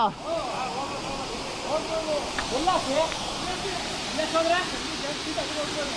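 Bandaje Falls water rushes over rock, a broad steady roar with people talking over it throughout.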